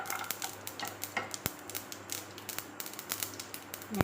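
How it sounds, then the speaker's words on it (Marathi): Quick irregular crackles and sharp pops, like seeds spattering in hot oil, with a faint metallic clink in between. "मोहरी असं तडतडा चांगलं"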